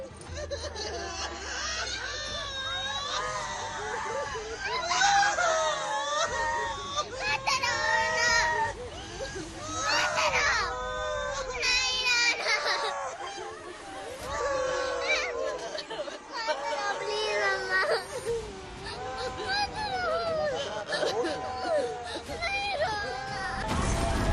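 Children crying and screaming in grief after a terror attack in Jammu and Kashmir, loud sobbing wails and shrieks mixed with nearby adult voices and chatter throughout.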